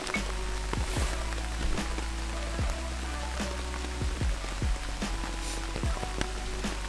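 Rain falls steadily at a campsite, a dense even patter with sharper individual drops striking a surface every second or so, close and continuous with no voices.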